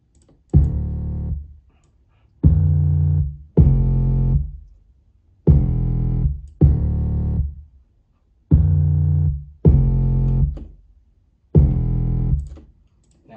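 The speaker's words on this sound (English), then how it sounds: "now we add our bass to the mix." Hip-hop beat bass line played alone: eight deep, distorted bass notes in a steady repeating pattern, each sustained then decaying into short gaps, loud and clean with no voices.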